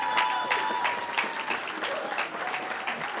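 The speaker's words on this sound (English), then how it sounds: "let's give a big round of applause" An audience at a youth human rights awards ceremony claps steadily, dense applause that stays full and even throughout with faint voices mixed in.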